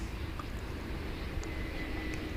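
Korean Air airliner departing Seoul's airport for Osaka, a steady distant jet engine roar with a broad rumbling wash and no voices.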